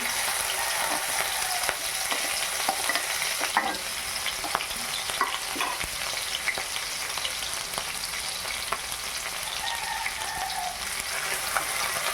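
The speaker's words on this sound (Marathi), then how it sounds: "आता मी हा ठेचा टाकून घेते।" Thecha chili paste frying in a hot pan with cumin for a cowpea leaf vegetable dish, a dense, steady, close crackling sizzle running throughout with scattered small pops and spits, no voices.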